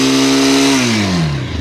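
Engine of a Bajaj Pulsar F220 motorcycle, 220 cc, running loud and close with a steady idle-like drone whose pitch drops gently toward the end of a short burst.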